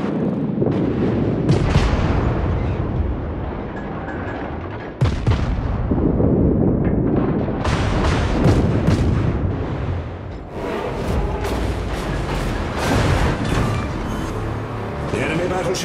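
Heavy naval artillery fire and repeated booming explosions as an enemy battleship is destroyed, a dense, loud, continuous barrage with sharp blasts standing out, while voices speak over it.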